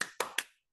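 Three sharp, close hand claps ring out in quick, even succession during a classroom ice-breaker clapping game, each one cracking crisply and fading fast before a brief silence.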